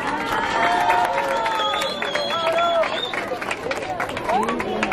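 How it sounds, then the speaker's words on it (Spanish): Crowd applause at an outdoor Day of the Dead altar event in Cutzamala de Pinzón, Guerrero, a steady wash of clapping mixed with cheering and shouts over a babble of voices, lasting throughout. "Un fuerte aplauso, por favor,"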